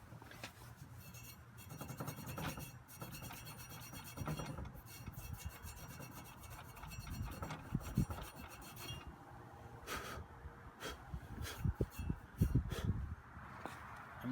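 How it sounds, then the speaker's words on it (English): An old piece of 220-grit sandpaper on a block is rubbed over corrosion with slow, careful strokes, a faint, close rasping scratch that repeats irregularly and grows a little busier toward the end. "I'm just using an old piece of 220 sandpaper here on a block."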